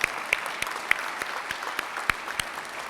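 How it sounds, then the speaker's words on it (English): At a Rotary club meeting, a small audience gives a round of applause for award finalists, a fairly quiet patter of clapping with a handful of distinct sharp claps popping out irregularly. "Let's give all the finalists a final round of applause."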